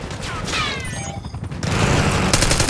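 Dense gunfire rattles through a Call of Duty Black Ops 6 multiplayer Hardpoint match, with overlapping automatic bursts and loud, close shots that thicken toward the end.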